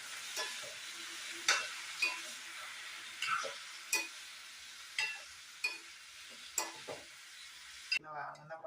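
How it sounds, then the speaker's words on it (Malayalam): Tomato curry being stirred in a pan after salt water is added, a soft steady sizzle with repeated scraping strokes of a spoon against the pan at an unhurried rhythm. "നമുക്ക് എല്ലാം ഇളക്കി വെക്കാം."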